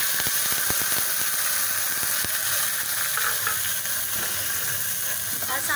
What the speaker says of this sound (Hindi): ज़ीरा ज़रा अच्छा सा वो हो जाए फ्राई, तो इसमें मैं प्याज चॉप की भी डालूँगी